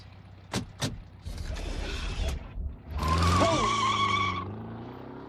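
A 1997 Volkswagen Beetle movie car revs and drives with a rising engine note, then skids with a long sharp tire squeal that bends in pitch before fading, preceded by a few quick thumps.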